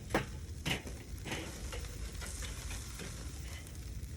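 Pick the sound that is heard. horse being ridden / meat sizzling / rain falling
meat sizzling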